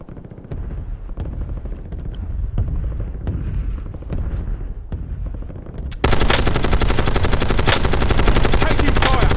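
Automatic gunfire in the Call of Duty Warzone video game starts as scattered sharp shots and short bursts. After a few seconds it becomes a loud, dense, continuous barrage of rapid fire.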